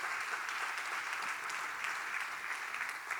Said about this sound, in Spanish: Aplaude el nombre del Señor.